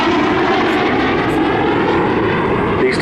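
Two BAC Strikemaster jet aircraft flying at the Southport Airshow 2019, a loud steady roar of engines filling the air throughout.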